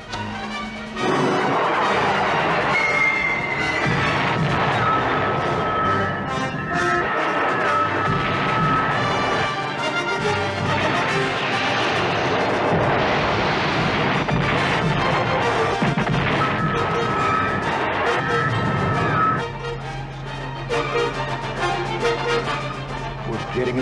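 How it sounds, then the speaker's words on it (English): Film sound effects of missiles firing and exploding in a chain reaction in a 1978 Battlestar Galactica space battle, with a dense run of booms, crashes and whooshing blasts lasting about twenty seconds, loud and close, ending in a lower rumble. "Getting a chain reaction, sir. Missiles destroying each other."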